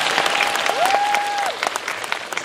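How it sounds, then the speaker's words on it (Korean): An audience applauds at a live movie talk event for Swing Kids in a theater, dense steady clapping from a crowd filling the whole moment, with a brief whistle-like tone rising over it. "오정세 씨 무릎에게 박수 한번 쳐주세요"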